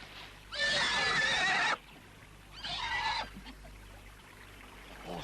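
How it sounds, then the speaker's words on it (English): A horse whinnies loudly and close by on an outdoor moor near a bog in 1920s England. A long neigh is followed by a shorter, softer second call, with no speech over them. "Horse, my lord."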